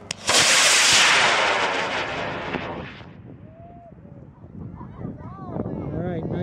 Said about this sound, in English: nice high flight on the J motor